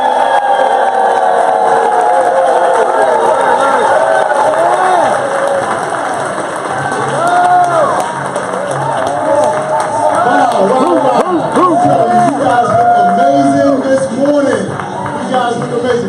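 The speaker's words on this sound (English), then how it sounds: "please give a rounding applause to Mr. Al Murray." A crowd at a Karatbars World Tour 2018 business event cheers and applauds loudly, with whoops and shouts rising over a continuous roar of clapping.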